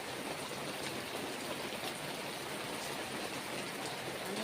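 Heavy rain falling steadily outdoors, a continuous even hiss of downpour heard alone and fairly faint.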